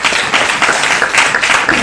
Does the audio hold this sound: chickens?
no